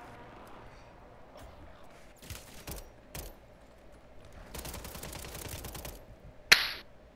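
Gunfire in Call of Duty Warzone on Rebirth Island, with scattered single shots and a sustained burst of rapid firing that ends in one sharp crack. Voices talk quietly underneath.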